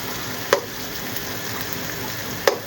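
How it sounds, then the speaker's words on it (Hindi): Garlic and ginger paste fry in a pan with a steady, moderate sizzle throughout, broken by two sharp clicks or taps about two seconds apart, with no voices. "तो ये थोड़ा सा लहसुन और अदरक जो है ना ब्राउन हो जाए"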